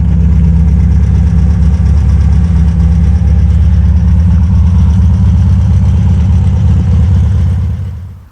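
A Volkswagen Beetle engine idling, a loud, close, steady low throb with an even rhythmic beat that fades out at the end.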